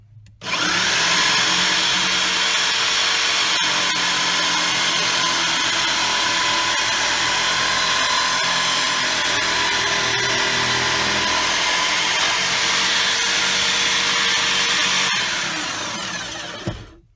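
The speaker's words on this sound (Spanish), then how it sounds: "Vamos a cortar un trozo de MDF 9 milímetros a ver cómo quedó funcionando nuestra sierra." A homemade table saw driven by a power drill cuts through a 9 mm MDF board, a loud, steady high-pitched whine with grinding cutting noise sustained for about fifteen seconds before spinning down.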